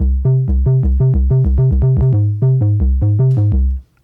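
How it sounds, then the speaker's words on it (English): A deep synthesizer sub bass plays a steady, pulsing pattern of repeated low notes, loud and alone, then stops abruptly. "we're gonna start with the sub bass,"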